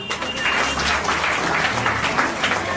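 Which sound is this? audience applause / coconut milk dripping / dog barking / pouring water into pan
audience applause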